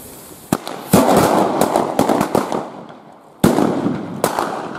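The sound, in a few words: circle of leftover firecrackers (Böller) exploding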